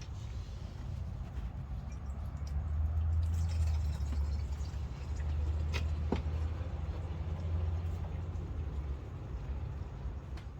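Fuel draining from the tank of a Yamaha Dragstar 1100 motorcycle, a steady low trickle and gurgle, faint and continuous, with a couple of small clicks and no voices.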